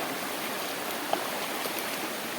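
Steady rushing of a flowing mountain river, a broad continuous wash like a nearby stream, with no voices over it.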